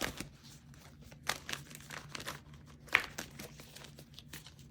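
Tarot cards shuffled by hand give soft crinkling riffles and light slaps in short, irregular bursts, faint and close, with no talking.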